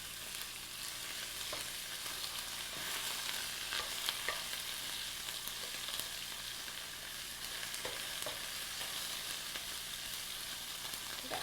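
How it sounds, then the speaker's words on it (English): Pork stir frying in a pan for ankake yakisoba, a steady, even sizzle with occasional light clicks of stirring, no talking. "Stir fry."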